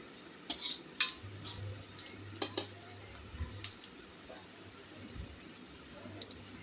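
A spoon stirs onions and curry leaves in oil in a cooking pan. It makes a few light, scattered metallic clinks and scrapes against the pan, faint and close, over a quiet background hum.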